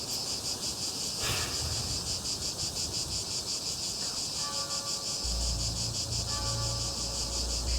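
Cicadas shrill in a dense, pulsing chorus that carries steadily throughout, with a faint low rumble joining toward the end.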